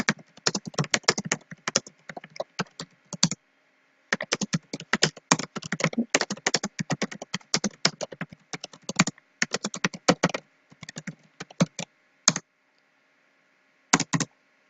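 Typing on a computer keyboard while entering choices in a Ren'Py game script: close, crisp key clicks in rapid bursts with short pauses, then a few isolated taps near the end.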